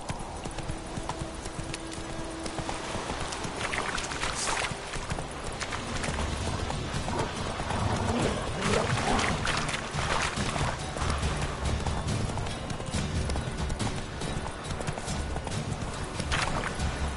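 Steady clip-clop of Geralt's horse Roach trotting along in The Witcher 3, a continuous rhythmic hoofbeat that carries on unbroken, with a faint voice now and then underneath.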